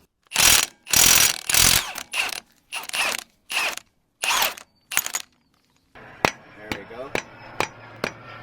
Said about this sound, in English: We're going to use a 35 millimeter socket to go ahead and drive that one out.